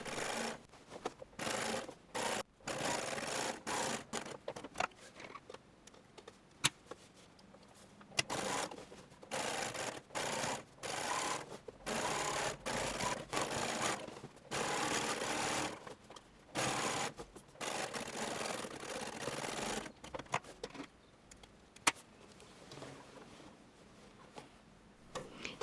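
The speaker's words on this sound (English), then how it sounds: "Then the final top stitching." Sewing machine top stitching a shirtwaister dress, bursts of rapid mechanical ticking in runs of a few seconds, separated by short pauses, close but fairly quiet.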